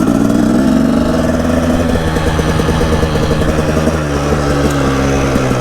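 A Husaberg TE 300 motorcycle engine runs loud and close on a field ride, a steady buzzing two-stroke drone that shifts pitch slightly with throttle changes.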